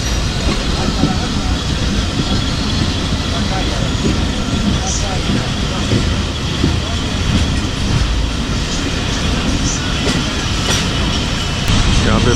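The Jaffar Express brakes at Kharian Cantt station in Punjab with a loud, continuous rolling rumble and rattle that stays close and steady throughout.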